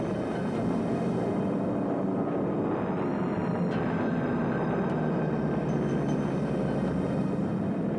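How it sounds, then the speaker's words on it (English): Forty WWII Stuka dive bombers power-diving through an anti-aircraft barrage over Malta, heard as a loud, steady, droning roar with a faint rising whine that never lets up, and no voices. "40 Stuka bombers go into a power dive through the barrage"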